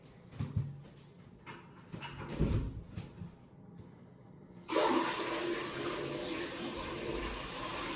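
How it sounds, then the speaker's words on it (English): An RV toilet flushes: quiet clunks and shuffling give way to a loud, steady rush of water from the flush button that fills the rest of the clip, close to the microphone. "once you dump it down, then just hit the flush button"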